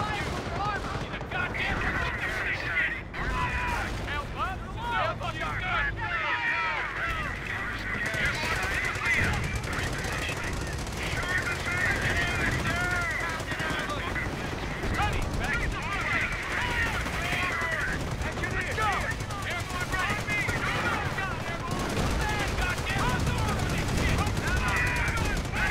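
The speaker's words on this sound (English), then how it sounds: "Base is taking fire." Gunfire and artillery pound a base during a Company of Heroes battle, a dense, continuous wall of loud shots and blasts with shouted unit callouts and voices over it throughout.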